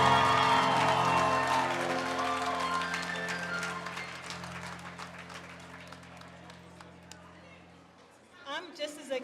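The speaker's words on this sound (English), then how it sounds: "Let's give them another round of applause, our graduates" Applause at a 2016 graduation ceremony swells under the last held notes of the national anthem, a broad crowd roar that gradually fades before a voice begins speaking at the end.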